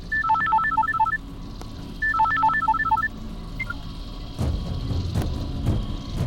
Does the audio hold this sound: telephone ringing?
yes